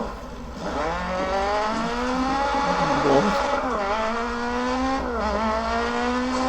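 Rally car racing over gravel in the video game DiRT Rally 2.0, its engine note rising and dipping through gear changes, loud and continuous, with a co-driver's voice calling pace notes over it.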